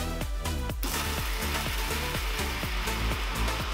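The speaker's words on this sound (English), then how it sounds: "now I'm going to grind it up until it's nice and smooth" Electric grinder pulverizing black pepper, ginger and green chilies, a loud continuous motor whir with a rhythmic pulsing churn as the contents tumble, close up and with no voices.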